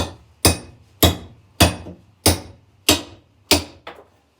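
A hammer strikes during tile step work, six sharp, evenly spaced blows about half a second apart, close and loud, each ringing briefly before decaying, with the last one softer.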